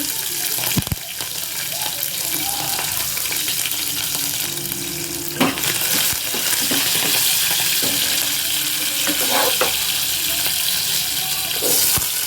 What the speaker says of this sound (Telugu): కొంచెం మినపప్పు ఇవన్నీ కొంచెం దోరగా వేగనిద్దాం వేగంగానే కొంచెం కరివేపాకు పచ్చిమిర్చి